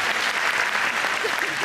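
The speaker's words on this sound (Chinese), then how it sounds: "掌声给那女同学鼓励一下哈" Audience applause at a youth forum event: a dense, steady crowd clapping that fills the whole short moment.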